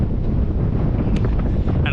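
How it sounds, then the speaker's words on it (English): Steady wind buffeting the microphone on an exposed alpine volcanic trail, a continuous low rumbling roar that holds loud and even throughout without letup. "Still windy."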